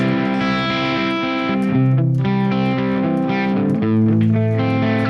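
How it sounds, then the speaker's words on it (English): Crunchy, overdriven electric guitar through a Sonicake Matribox 2 Pro amp model plays sustained, ringing chords with moderate distortion, loud and steady, no voices. "I think for these big crunch tones it's better to have not that much, that many distortion stages."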